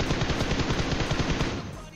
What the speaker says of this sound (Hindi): तभी मेरे को एक राइट साइड से भाई यूएमपी के कुछ शॉट्स आते हैं